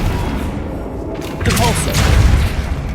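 A Flipendo spell cast in the Hogwarts Legacy video game: a low booming impact and rumble swells in the middle and fades, with an airy whoosh and shimmer overhead.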